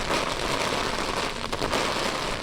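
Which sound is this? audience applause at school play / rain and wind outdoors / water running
rain and wind outdoors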